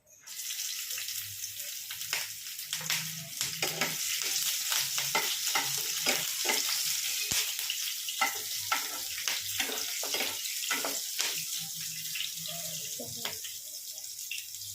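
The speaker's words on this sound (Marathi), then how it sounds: "आता हिरव्या मिरच्यांचे काप तळून घेऊयात." Green chili slices fry in hot oil for a Diwali dahi poha chivda, with a steady close sizzle broken by frequent stirring and scraping in the pan, and no voices.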